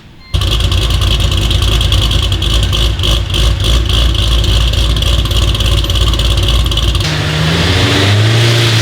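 A ProCharged supercharged Pontiac GTO on a dyno with full exhaust and glass packs, a loud sustained roaring rev held for about seven seconds before it drops off to a lower settling rumble, close and with no talking.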